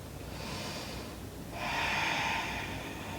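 Deep breath drawn during a side-body stretch in a vinyasa yoga session, a steady airy exhale swelling louder in the second half, close and alone with no talk.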